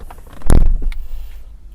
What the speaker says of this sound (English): first let's check the thud of the door